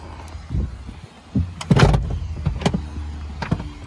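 Rear seats of a Kia Carnival YP S eight-seater wagon being folded up, with clunks, a strap tug and rattling mechanical knocks close by inside the cabin, several irregular thumps over a few seconds, no speech.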